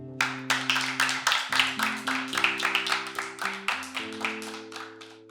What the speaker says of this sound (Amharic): ጎበዝ ተማሪዎች አጨብጭቡላት።